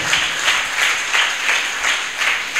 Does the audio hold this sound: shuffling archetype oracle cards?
no